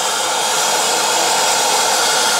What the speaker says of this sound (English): for these nuts I'm just hitting them with a little bit of MAP gas